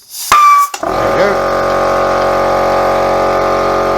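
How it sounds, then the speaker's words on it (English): An air compressor starts up in a garage during brake work on a Ford Fairmont AU, and a brief high whine precedes a steady, loud, droning motor hum that continues unbroken to the end. "Apologies for the compressor noise."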